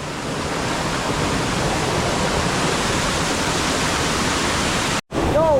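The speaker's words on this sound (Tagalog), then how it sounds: "Lakas ng tubig." Damsel Falls roars with strong rushing water, a loud, unbroken wash of sound that cuts out briefly near the end before a voice calls out.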